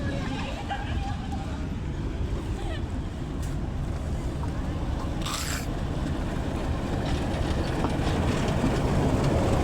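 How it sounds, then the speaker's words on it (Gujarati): A passenger train pulls into a station in Gujarat, with a steady, loud rumble of wheels and carriages that swells slightly toward the end, plus wind buffeting the microphone. "તો આવી ગઈ છે મિત્રો ટ્રેન,"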